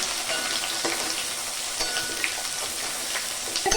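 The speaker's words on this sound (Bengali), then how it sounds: "ভালো করে ভেজে নরম করে নেব, তাই জন্য একটু লবণ দিয়ে দেবো পেঁয়াজের উপর।" Chopped onions frying in oil with whole cardamom and cloves for jackfruit kosha give a steady, close crackling sizzle with light stirring scrapes, no voices.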